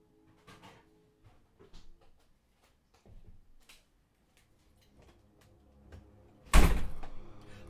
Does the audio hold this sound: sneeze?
no